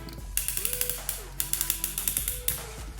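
Ratchet joints on a Giant Legion Devastator mecha toy click in quick, even runs of small plastic ticks, several bursts in a few seconds, close and crisp against a quiet background.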